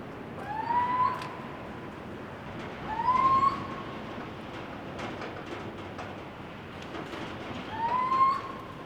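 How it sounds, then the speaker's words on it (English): An owl hoots inside a building, three soft, drawn-out calls spaced a few seconds apart, heard at moderate distance over a steady background hiss. "but that noise, I don't know if I get it on the camera, I'm pretty sure that's an owl"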